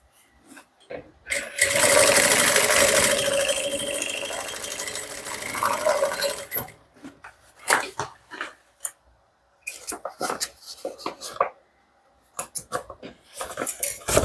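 A sewing machine runs in a steady burst for several seconds while stitching a half-centimetre seam on a handmade bag, followed by scattered clicks and handling noises as the fabric is adjusted; a voice talks quietly in between.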